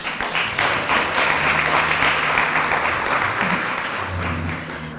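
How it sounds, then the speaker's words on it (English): Sustained audience applause fills the room at an annual Women's Equality Day induction luncheon, a steady dense wash of many hands clapping that holds loud throughout and eases slightly near the end. "Give yourselves a round of applause."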